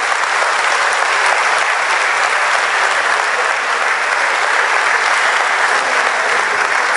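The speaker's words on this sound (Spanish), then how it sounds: "Un fuerte aplauso," Loud, sustained applause from an audience after a talk, dense even clapping held steady throughout with no break.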